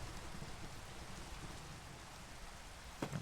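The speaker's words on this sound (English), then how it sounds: "It's thunderstorm, so we're just gonna sleep through it." Steady rain falling during a Minecraft thunderstorm, a dense even hiss throughout with a brief louder patter or rumble near the end, no voices.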